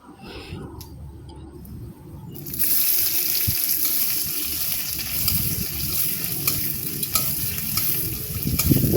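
Leafy greens are dropped into a pan of softened onions for a greens-with-fried-peanuts dish. A quieter start gives way to a loud, steady sizzle with scraping stirs over it.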